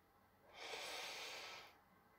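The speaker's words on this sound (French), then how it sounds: "Prenez une respiration par le nez" A single slow inhale through the nose during a guided meditation, a soft airy hiss that swells and fades over about a second, close and quiet against a near-silent background.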